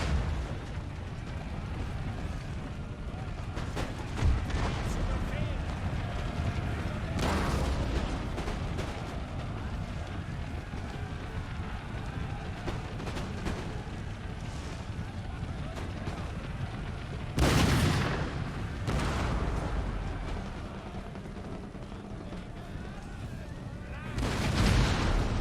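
Cannon artillery fire in an Empire: Total War battle with Prussian forces, heavy booming blasts at intervals over constant battlefield din, several loud near bursts standing out, with someone talking at times.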